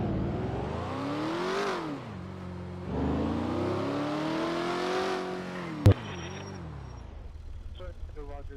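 Engine of a police patrol car in a driving video game revving up and down in two long swells, loud and continuous under steady talk, with a sharp click near the end before the engine settles to a low idle.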